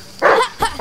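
A dog in the Die Young game gives two or three sharp, loud barks close by, in quick succession over the course of under a second.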